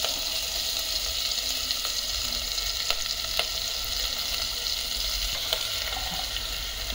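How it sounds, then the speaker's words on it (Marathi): Green chilies and crushed ginger sautéing in a pan for mixed vegetable soup, a constant close sizzle with occasional sharp ticks and stirring clicks. "या हिरव्या मिरच्या या जरा आधी परतून घ्यायच्या"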